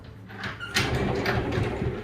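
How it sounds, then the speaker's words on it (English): A five-panel farm-style pocket door in a tiny house slides along its track, a rolling rumble that starts loudly partway through after a few small clicks and light squeaks, heard close with no talking. "Pocket door. I don't like these latches."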